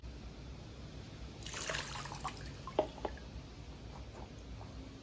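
Hot water from a sink tap splashes onto the palm of a 44 Pro denim baseball glove, a soft irregular spatter with a few louder drips and squishes, quiet and close, with no talk.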